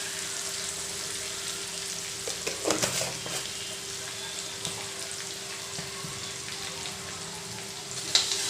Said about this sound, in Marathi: मीठ आणि मिरची एकत्र छान परतवून घ्यायची, मिरचीचा कच्चेपणा जाईपर्यंत।